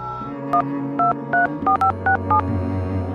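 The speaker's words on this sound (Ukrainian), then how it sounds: "Коли нарешті їй дали зателефонувати, вона набрала номер." Seven or so crisp touch-tone beeps as a phone number is dialed in quick succession, each short and clear over a low background hum.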